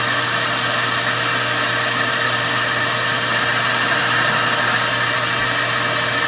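Wet vacuum runs loud and unbroken, drawing moisture out of a delicate fabric, a steady roaring motor with a constant whine and no speech over it.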